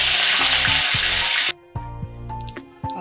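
Curry leaves dropped into hot oil hiss in a loud, dense sizzle for a moment, then the sound cuts to quieter spitting and crackling with a few stirring knocks.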